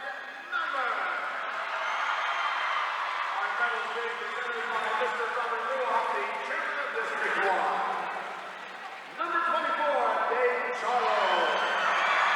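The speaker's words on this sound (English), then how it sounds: "you hear the round of applause as the Trojans introduced first time as the champions" Gym crowd at the 1993 Pennsylvania state basketball championship, Pottstown versus Valley, applauds the newly crowned champions, a steady roar of clapping and cheers running beneath a public-address announcer's talk.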